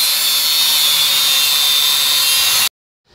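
Power tool sanding down the steering center pin area on a Volkswagen Kombi, a loud, steady high-pitched whine with abrasive grinding that holds for under three seconds, then cuts off abruptly into silence.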